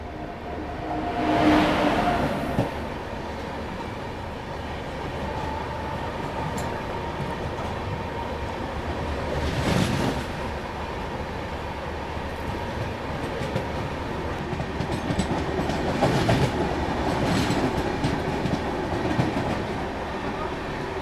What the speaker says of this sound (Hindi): और यहाँ पे ये क्रॉस हो रही है सियालदह, अजमेर सियालदह एक्सप्रेस।